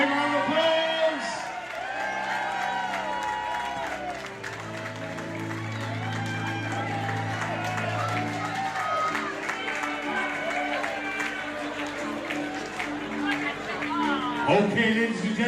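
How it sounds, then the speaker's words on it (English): Crowd at an awards evening claps and cheers with whoops, steady and close throughout, mixed with overlapping chatter and voices. "Give me a big round of applause."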